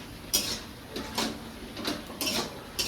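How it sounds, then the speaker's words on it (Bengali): Spoon scraping and stirring vegetables with cumin paste in a pan, several scraping strokes at irregular intervals with brief clinks, fairly quiet and close, no voices. "এবার ভালো ভালো করে নাড়াচাড়া করি।"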